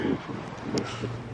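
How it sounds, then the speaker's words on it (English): Strong wind blows outdoors in Alberta, Canada, buffeting the microphone with a steady low rumble and brief gusts over a short stretch. "It's very windy."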